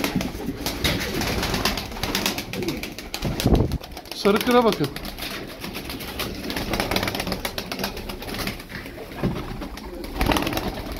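Turkish tumbler pigeons coo in a loft while someone talks in Turkish over them, with soft rustling and occasional wing flutters.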